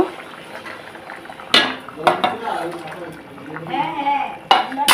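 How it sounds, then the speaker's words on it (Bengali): Lentil dal boiling hard in a cooking pot, with a steady bubbling wash broken by a few sharp metallic clinks of utensils against the pot, close by, while someone speaks over it. "তো পুরো টক বক করে ফুটে গেছে"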